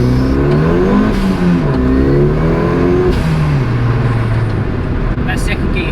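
A go kart with a swapped 280 bhp engine accelerates hard in second gear, its loud engine note climbing in pitch through successive revs over wind noise, with people talking over it.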